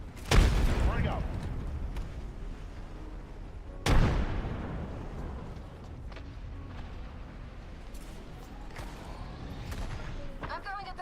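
A frag grenade explodes in Apex Legends: a sharp loud blast near the start and a second heavy boom around four seconds, followed by scattered distant gunfire and rumble beneath faint voices.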